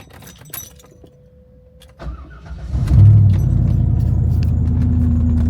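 A C5 Corvette with new modifications starts after months in the shop: keys jangle, then the starter cranks for about a second before the engine catches into a loud, steady, rumbling idle up close, with no talking.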